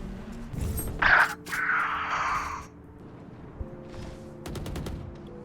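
Gunfire from the video game Valorant, a short burst of shots near the middle over steady in-game ambience, followed by a few faint scattered pops toward the end.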